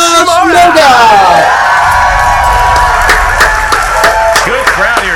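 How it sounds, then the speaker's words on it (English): A loud, close crowd at a live Movie Trivia Showdown cheers, whoops and yells continuously, with sharp individual shouts rising above the dense roar. "Good crowd here today."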